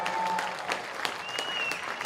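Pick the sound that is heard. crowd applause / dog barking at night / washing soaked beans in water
crowd applause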